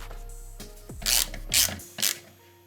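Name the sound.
driving a Torx screw back in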